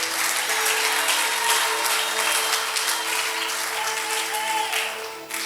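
Church congregation applauding during a sermon in Benguela, Angola, steady sustained clapping throughout with a low sustained musical tone underneath.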